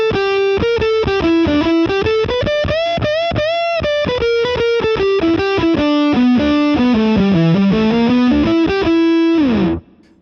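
A distorted electric guitar noodles through a continuous run of blues-scale notes, loud and close, wandering up and down without pause before cutting off abruptly at the end.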